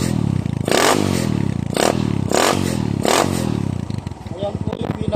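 A motorcycle fitted with a 304 stainless steel exhaust pipe revs hard several times in a row, each throttle blip rising and falling close by before settling into a lumpy idle.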